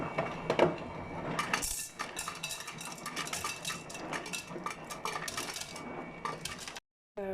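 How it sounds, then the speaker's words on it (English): Ice is transferred into a container in a hotel room in Kobe, producing a busy stream of close hard clinks, rattles and knocks of cubes tumbling against each other and the vessel, with no talking, ending abruptly. "So I just transferred a whole bunch of ice into here."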